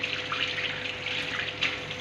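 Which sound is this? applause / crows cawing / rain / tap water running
tap water running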